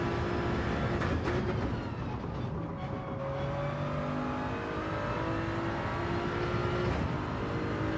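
Steady engine drone of a Toyota Supra race car in Gran Turismo 7, loud and continuous with shifting revs and whirring tones throughout.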